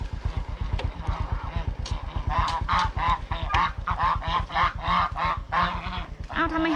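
A group of ducks quacks loudly and repeatedly close by, the calls overlapping above a steady low rhythmic thrum.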